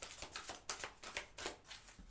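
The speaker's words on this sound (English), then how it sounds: "One more shuffle." Cards riffle and slap together in quick repeated bursts as a deck is shuffled, quiet and close, with no one speaking.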